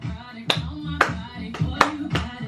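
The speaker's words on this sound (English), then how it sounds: "Come on everybody now, clap" A handful of people clap together in slow unison, four or five distinct sharp claps spaced about half a second apart, close and moderately loud over a low background.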